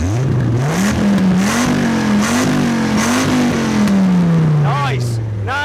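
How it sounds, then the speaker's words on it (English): A first-generation Dodge Viper's engine revved repeatedly up close, rising and falling in loud waves before settling back down, with a voice briefly audible over it. "Let's see which generation of Dodge Viper sounds the best. I'm going to start with a Gen 1,"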